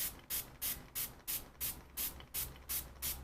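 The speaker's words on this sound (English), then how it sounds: "so I just mixed it and put it in the spray bottle" A spray bottle of homemade rose water spritzed in quick succession, about nine short, crisp hissing bursts at an even rhythm, close and clear with no talking.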